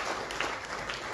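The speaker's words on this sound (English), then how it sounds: "We must clap for the teachers." An audience claps together for teachers at a ceremony, a brief burst of dense, fairly distant applause.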